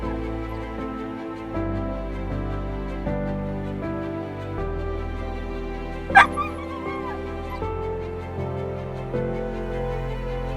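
A dog whimpers and yips softly over steady music, with one sharp high squeal about midway.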